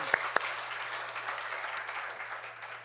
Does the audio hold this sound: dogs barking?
no